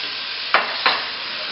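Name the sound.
stirring diced sweet potatoes in sizzling curry pot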